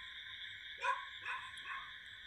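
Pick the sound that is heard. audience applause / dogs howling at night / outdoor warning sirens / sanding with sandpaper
dogs howling at night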